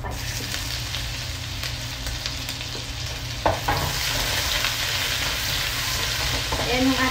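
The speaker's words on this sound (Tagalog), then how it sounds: "Magigisa na ako ng ating mga spicy" Spices sizzle and fry in cooking oil in a pan, a steady dense crackle with occasional stirring scrapes and clinks, close and continuous with no talking.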